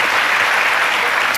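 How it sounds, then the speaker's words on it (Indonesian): Church congregation clapping in praise during a sermon, a dense, loud, continuous wash of applause with no voices standing out. "Berikan tepuk tangan kita untuk Tuhan kita."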